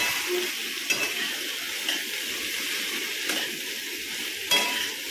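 Okra sautés in salted oil as it is stirred around a pan, a soft steady sizzle with a few scraping stir strokes, close and fairly quiet.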